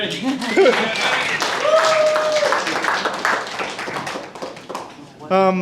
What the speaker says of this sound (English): Give a round of applause to our groom, Luke Ventras.